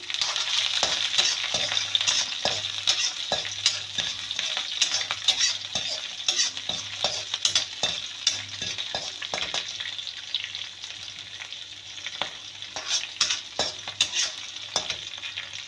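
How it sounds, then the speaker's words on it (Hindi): Green chillies fry and get stirred in a pan for a restaurant-style fish chilli, giving a continuous near sizzle with regular sharp clinks and scrapes of a utensil against the pan, and no voices. "ये अब इसमें जाएगी हरी मिर्चें,"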